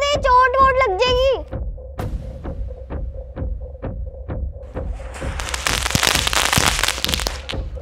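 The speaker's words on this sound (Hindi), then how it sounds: "फिर से आज मैं सारे पटाखे हाथ में फोड़ूंगा।" Diwali firecrackers bursting one after another in steady sharp pops, opening with a brief voiced tone and ending in a loud crackling spray of sparks.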